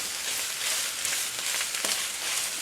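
Bitter melon stir-fries in a hot pan with a loud, steady, close sizzle, broken by a few soft scrapes and stirring taps; nobody speaks.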